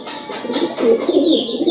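Original Peter highflyer pigeons coo softly and steadily at close range inside a loft, a low murmuring with no talking.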